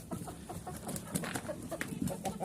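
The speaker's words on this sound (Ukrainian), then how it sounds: "Зараз випустимо курей на вулицю." Chickens, laying hens, clucking and squawking in a dense, steady chorus as they are let out into the yard, close and lively throughout.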